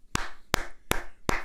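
Four single hand claps ring out sharply at an even, spaced rhythm, close and distinct, standing in for applause.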